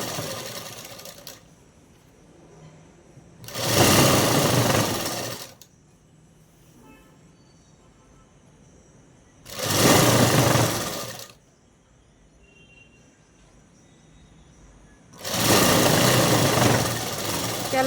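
A sewing machine stitches an umbrella-cut dress in three loud, steady bursts of a few seconds each, with quiet pauses between runs.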